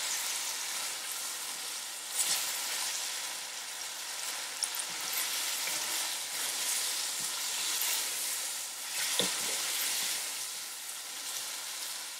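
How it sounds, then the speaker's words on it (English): Chicken karahi sizzles steadily in a pan as it is stirred, with a continuous frying hiss and a few brief scraping clinks from the spoon. No one talks. "I'm going to fry it for 2-3 minutes."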